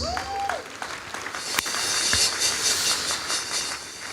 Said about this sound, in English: We ask you to encourage him with a hearty applause.